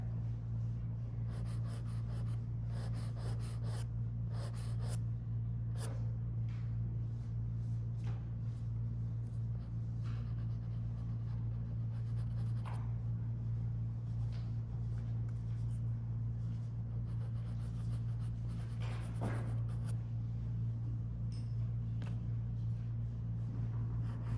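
A pastel stick scratches across paper in soft, intermittent strokes, faint and close over a steady low background hum.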